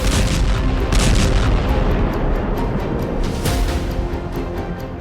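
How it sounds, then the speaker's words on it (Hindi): Continuous heavy booming rumble from a long-range missile attack in the Russia–Ukraine war, a dense roar of blasts and artillery-like bursts sustained loudly throughout with no talk. "लंबी दूरी की मिसाइल से हमला।"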